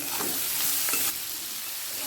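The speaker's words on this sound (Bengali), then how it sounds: "পেঁয়াজটা হালকা লাল করে ভাজা হয়ে গেছে" Onions fry in a pan for an egg curry, cooked until lightly reddened; a steady, close sizzle with faint stirring runs throughout, growing slightly quieter partway through, with no talking.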